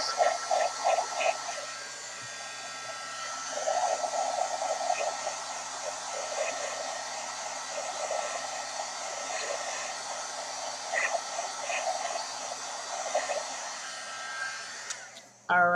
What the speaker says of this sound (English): I'm just going to hit it with my heat gun just a little bit.